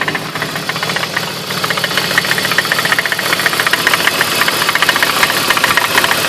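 A BMW E46 engine idles with a persistent rapid knocking, a loud, steady mechanical ticking rattle over the running engine noise throughout.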